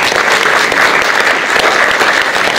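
Loud, dense clapping from an audience voting on a soccer foul and misconduct call, sustained evenly throughout, with no voices over it.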